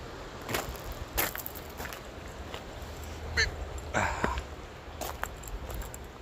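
Canada geese honking outdoors on an evening walk, a few scattered calls at moderate distance over quiet background noise, with light footsteps.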